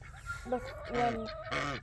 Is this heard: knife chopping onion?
no